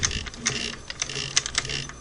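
Mechanism of a Singer Model 401 sewing machine, rusty and with a faulty stop motion system, turning with quick metallic clicks and ratcheting ticks over a low whir, close up and moderately loud.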